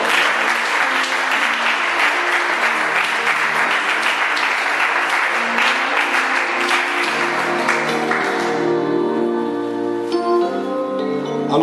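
A church congregation applauds loudly and steadily throughout, a dense sustained clapping that eases slightly near the end as a tonal musical sound emerges beneath it.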